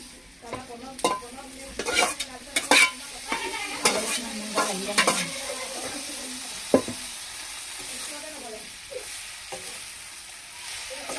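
Taro greens frying in a pan with ginger, garlic, chilli and coriander, heard up close as a steady sizzle with a burst of clattering stirring strokes at first, settling into a quieter, even fry with no one speaking.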